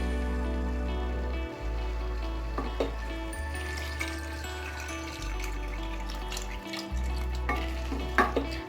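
Steady frying and sizzling as water is added to a hot pan of mixed vegetables, with intermittent stirring and a low rumbling hum underneath, continuous throughout.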